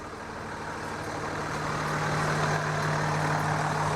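A Cummins 350 hp diesel engine runs in a 2000 Monaco Windsor Class A motorhome with a low, steady rumble that swells slightly louder over four seconds.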